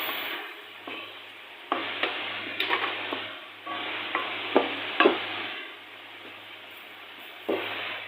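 Butter and garlic for crab sizzle in a pan in intermittent bursts, with sharp scrapes and clinks of stirring over a low, steady hum.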